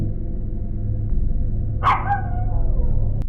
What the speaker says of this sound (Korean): 겁먹은 강아지는 짖기만 합니다.